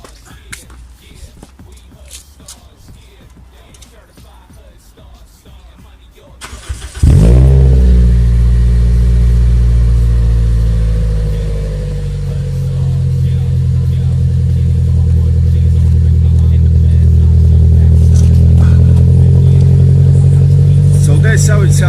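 A Toyota Celica VVTi engine with the exhaust silencer removed fires up about seven seconds in after quiet background, then idles and revs loudly and raw, with a deep, sustained drone that dips briefly and swells again.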